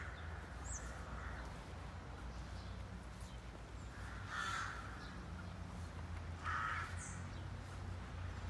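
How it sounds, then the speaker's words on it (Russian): Crows caw faintly a few times over a steady outdoor hum in Estonia, while small birds feed in a rowan tree laden with berries nearby. "Какие-то птички уже прилетели, клюют рябину."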